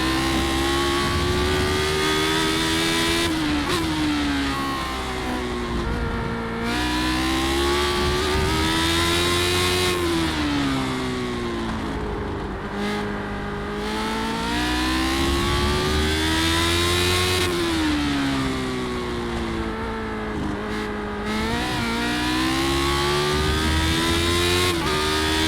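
Lotus 79 race car in a racing video game, its engine revving hard and continuously with the pitch climbing and dropping through gear changes and corners, loud and steady throughout with no voices.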